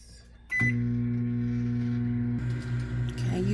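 Microwave oven humming steadily as pork rinds cook inside, with a clear tonal drone starting after a click and running continuously, slight shifts near the end.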